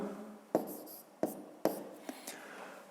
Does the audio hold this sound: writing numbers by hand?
yes